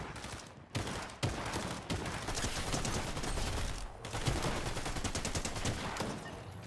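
Rapid bursts of gunfire from a Fortnite match crackle loud and nearly continuous, volleys overlapping with brief gaps, some shots sharper and closer than others.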